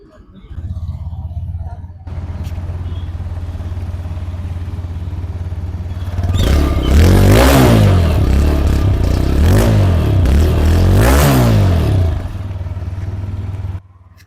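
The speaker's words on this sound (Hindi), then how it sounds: "सो कुछ इस तरह का एग्जॉस्ट नोट जो है वो आपको मिल जाता है विद द टीवीएस रेडर 125" A TVS Raider 125 motorcycle idles with a steady low exhaust rumble, then is revved hard three times in quick succession, each rev rising and falling before it settles back to idle.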